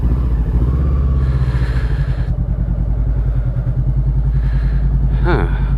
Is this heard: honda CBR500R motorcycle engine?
yes